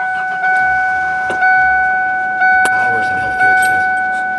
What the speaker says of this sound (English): You gotta use the key so you can start it.